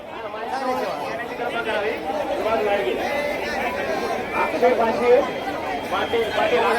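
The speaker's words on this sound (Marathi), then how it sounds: "माऊलीची पालखी दर्शनासाठी भयंकर गर्दी बघा बघू शकताय" A large crowd of pilgrims gathers for darshan of the Dnyaneshwar Mauli palkhi: a dense, continuous babble of many voices talking at once, close and fairly loud.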